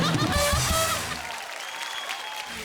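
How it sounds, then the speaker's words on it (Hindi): A studio audience at a comedy show applauds, a dense patter of clapping that carries on steadily after a brief burst of voices and laughter at the start. "तालियां।"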